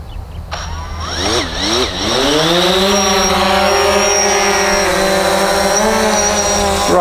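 A DJI Phantom 4 quadcopter spins up and lifts off nearby, its rotors rising in pitch into a steady, loud whine that holds for several seconds.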